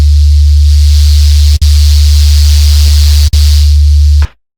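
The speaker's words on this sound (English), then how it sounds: "distort the noise after the filter, but before modulating the delay line to get an even dirtier and crunchier sound" Harsh, crunchy hiss of synthesized noise distorted after a filter, over a heavy low hum, continuous and loud, with two brief dropouts before cutting off.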